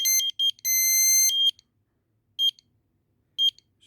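An explosimeter gas detector sounds its alarm, loud shrill electronic beeping in bursts, a long tone followed by shorter spaced beeps, close and alone with no voices.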